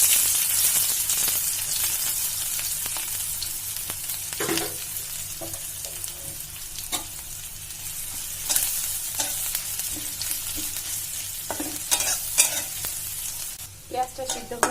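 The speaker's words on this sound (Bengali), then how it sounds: "আমি ওই তেলের মধ্যে কিছুটা পেঁয়াজ ভেজে নেব" Onions fry in hot oil in a pan, a steady bright hiss of sizzling broken by occasional scrapes and knocks of stirring, close and continuous.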